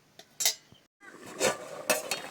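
A metal lid comes off a cooking pot while a Bengali fish curry with green tomato and potato simmers. There are a few sharp clinks and scrapes, one short gap, then more clattering metal contacts, close and moderately loud.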